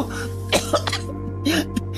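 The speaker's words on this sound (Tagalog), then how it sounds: "Inuubo na ako!" A person coughs and clears their throat in several sharp, close bursts over a steady low hum.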